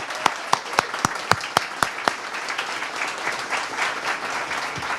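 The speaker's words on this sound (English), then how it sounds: "A big round of applause for everybody already." Audience applause at a Samsung Solve for Tomorrow national winners event, starting with several loud, distinct claps that blend into a steady wash of clapping from a crowd.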